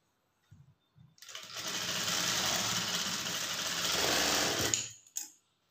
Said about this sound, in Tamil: அதை அப்படியே மடித்து தையல் போட்டுக்கலாம்.